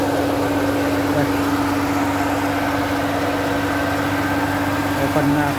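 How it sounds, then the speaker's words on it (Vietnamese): A 2003 Ford Mondeo's engine idles smoothly and evenly in a steady, close hum, with someone talking over it. "Máy nổ đây. Cực kỳ là êm nhá."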